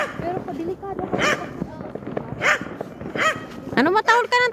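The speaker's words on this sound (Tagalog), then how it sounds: "Ano matahol ka ng tahol tapos na New Year?" A dog barks repeatedly in short, loud bursts during New Year celebrations, with people talking over and between the barks close to the recording.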